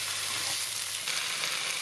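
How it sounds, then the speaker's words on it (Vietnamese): Eggplant pieces pan-frying in a hot pan, giving a steady, close, loud sizzle with crackle throughout and no talking. "Tức là anh chị em và các bạn sẽ chiên cho nó hơi rám rám xung quanh miếng cà."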